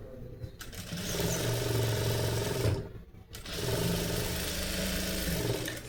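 A sewing machine runs steadily while stitching blouse fabric in a tailoring class, with a rapid mechanical whir that stops briefly near the middle and then starts again.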